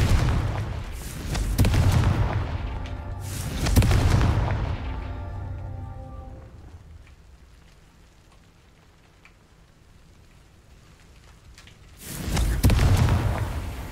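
Blasting curse explosions from Hogwarts Legacy: three loud booming bursts, each with a spreading rumble, spaced several seconds apart with a quieter lull between them.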